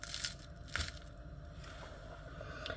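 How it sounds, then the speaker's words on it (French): Crisp bites into eggless homemade waffles, giving a few sharp crunches near the start with a big one around the middle, over a low steady background hum. "J'avais pas menti, elles sont hyper croustillantes."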